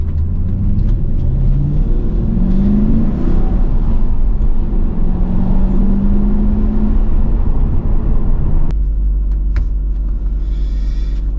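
A 2005 Mercedes-Benz CLK55 AMG converted to a manual transmission drives along with a loud, steady low engine rumble and road noise from inside, the tone shifting slightly partway through; no one speaks.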